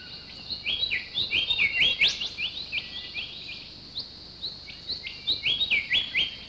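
A grey butcherbird hunting food for its young in Australian forest calls in a run of sharp, high chirping phrases, repeated bursts fairly near and clear over a faint insect hum, with no talk.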